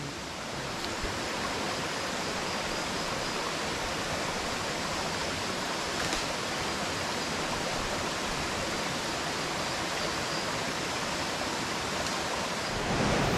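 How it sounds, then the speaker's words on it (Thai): A tall waterfall deep in a forest, a loud, steady roar of rushing water that fills the whole stretch without pause or voices. "ได้เดินมาเจอน้ำตกนะครับผม ก็ค่อนข้างที่จะสูงแล้วก็สวยมากๆเลยนะครับ"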